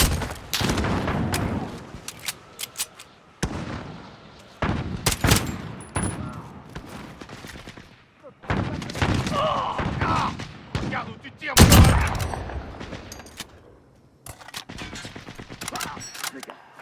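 Repeated gunfire in the first-person shooter Call of Duty: Modern Warfare, loud, close bursts of automatic rounds and sharp single shots coming in clusters with pauses, under occasional voices.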